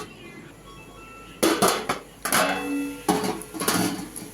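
A metal lid is set onto a cooking pot on the stove, producing a few loud clanks and scrapes spaced over a couple of seconds, each ringing briefly against a low background hum.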